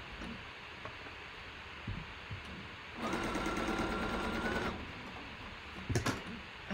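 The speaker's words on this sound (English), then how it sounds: "I'm going to sew that little piece" A sewing machine stitches a small quilt block piece in one steady burst of about two seconds, close and moderately loud in a quiet room, followed by a few faint handling clicks.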